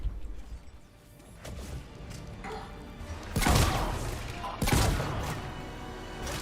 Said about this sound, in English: Let's switch over to the shotgun,